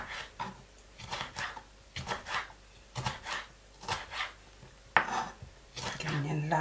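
Knife chopping tomato on a cutting board, about eight steady, evenly spaced thuds close up, with a sharper scrape and clatter near the end and no talking.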